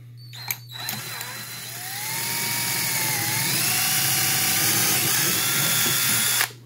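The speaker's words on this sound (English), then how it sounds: "got the trusty DeWalt with the 5/32 drill bit" A DeWalt cordless drill with a 5/32-inch bit spins up with a rising whine that holds steady for several seconds under load, then cuts off abruptly, loud and close.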